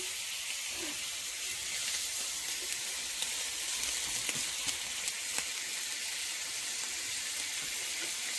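Kerrygold butter sizzles steadily in a pan, a continuous bright hiss with faint crackles and pops, near and even, with no voices.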